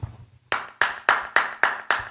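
Six sharp, evenly spaced hand claps ring out in a steady rhythm after a brief low murmur, close and fairly loud, each clap with a short decay.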